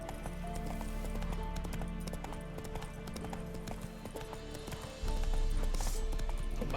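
Roach, the horse in The Witcher 3, gallops with steady, rapid clip-clop hoofbeats over game music and ambience, and the hooves grow louder near the end.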